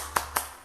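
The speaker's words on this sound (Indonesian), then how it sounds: "kita tepuk semangat dulu ya" A class of fifth-grade pupils does the tepuk semangat clapping cheer, two quick, sharp claps spaced apart, fairly faint and with no talking.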